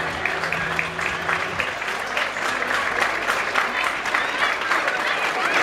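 An audience applauds sports champions at an awards moment, dense steady clapping with a crowd murmur, loud and sustained throughout, with a voice briefly audible at the start.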